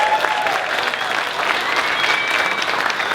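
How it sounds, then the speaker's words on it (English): Loud audience applause at a State of the City presentation, continuous dense clapping from a crowded room with a faint voice or two mixed in. "we may as well give him a round of applause too"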